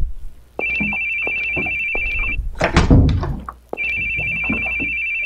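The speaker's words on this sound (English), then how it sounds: "There's that phone again." An old telephone rings in two long trilling bursts in the horror video game Sophie No, the bell cutting off for a stretch of knocks and shuffling before ringing again.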